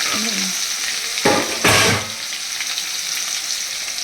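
Sliced potatoes sizzle in a hot pan with turmeric and salt, a steady close frying hiss broken by two louder bursts of stirring and spattering midway, with no talking.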